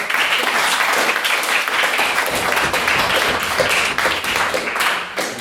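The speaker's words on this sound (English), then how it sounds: "A big round of applause for everyone." An audience at a formal debate breaks into sustained, loud applause for the speakers, many hands clapping densely and evenly, easing slightly toward the end.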